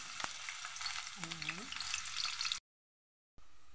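Spices sizzle steadily while being sautéed in a pan as fried rice gets started, a dense close frying hiss with a brief stirring scrape, then a short gap of silence before the sizzle resumes.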